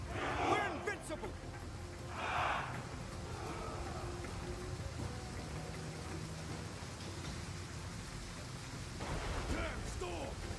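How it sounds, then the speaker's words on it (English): Steady rain hiss fills a thunderstorm in the video game Total War: Pharaoh, with a faint low rumble beneath and shouted voices breaking in over the downpour. "Damn storm! I can't aim!"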